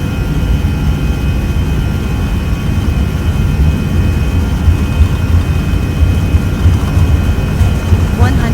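Airbus A319 jet engines at takeoff thrust in the X-Plane 12 flight simulator, a loud, steady, broadband roar that holds constant throughout with a faint thin whine on top.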